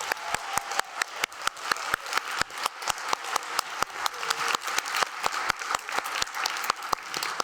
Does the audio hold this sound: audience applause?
yes